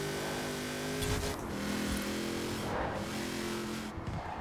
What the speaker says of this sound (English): There's that power just slipping the rear wheels.